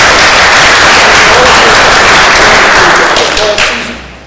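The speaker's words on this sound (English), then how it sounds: "I'd like you guys to please give a round of applause to our" Dense, loud applause from an audience at a university discussion on the 2012 presidential race, steady for several seconds before tapering off quickly at the end.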